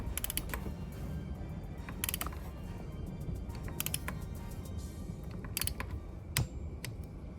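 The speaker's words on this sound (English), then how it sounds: "We're gonna be ratcheting it until you hear your click and stopping." Intermittent mechanical ratcheting clicks from a torque wrench tightening a spark plug on a 2023 Yamaha Zuma scooter, in short bursts over a low steady background hum, ending with a sharper single click near the end.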